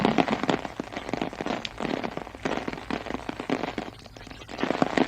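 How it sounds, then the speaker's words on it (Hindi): Heavy, steady rain falling in Poonch, Jammu and Kashmir, a dense continuous hiss with scattered sharper drops and patters throughout, loud and unbroken with no voices. "जिस तरह कल से ये बारिश जो यहाँ पे हो रही है, लगातार जमकर बारिश हो रही है"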